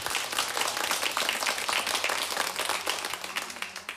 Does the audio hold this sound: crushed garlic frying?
no